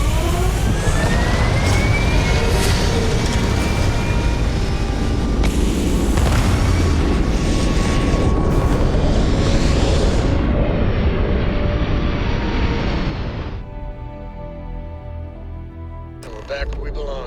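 Spaceship thrusters firing in the game Starfield, a loud continuous roaring rumble with rising whines and deep booms that holds for several seconds, then drops to a quieter hum with a brief flare at the end; a voice speaks over it.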